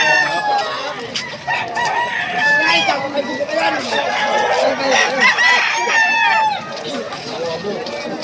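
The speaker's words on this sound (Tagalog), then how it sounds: "Puro manok, manok, manok" Several gamecock roosters crowing and hens clucking together at a chicken market, a busy overlapping chorus of fowl with people talking underneath.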